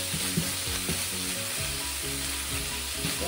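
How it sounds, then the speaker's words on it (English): Ground beef, a full pound, browns in a pan with a steady close sizzle, broken by soft scraping and stirring knocks at irregular intervals, with no talk. "I've got 1 pound of ground beef browning up."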